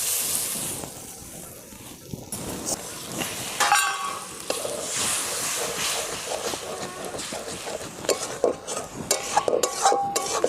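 Egg and cabbage fry in a pan with a spice paste of coriander, chilli, turmeric and cumin while a utensil stirs it, giving a steady loud sizzle broken by scraping strokes and clinks.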